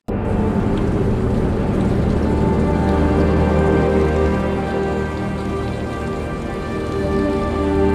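Heavy rain falls steadily in a rainy evening scene, an unbroken dense hiss of drops on surfaces at constant loudness, with no voices.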